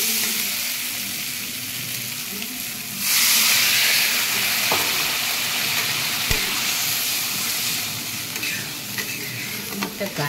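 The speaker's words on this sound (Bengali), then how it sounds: "এবার আমি জল দিয়ে দিচ্ছি।" Water goes into a pan of fried spice masala, and the steady sizzle jumps into a loud steaming hiss that keeps bubbling, with a few sharp clicks of utensils.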